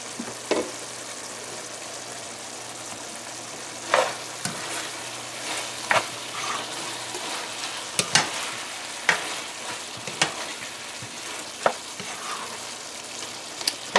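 Stewed pork with tomato paste stirred in a cooking pot, sharp spoon scrapes and clanks every second or two over a steady, soft sizzle of frying, close by with no talking.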